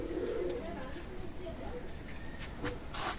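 Royal Teddy pigeons coo in low, soft, throaty bursts close by, with a few brighter chirps near the end over a steady background hum.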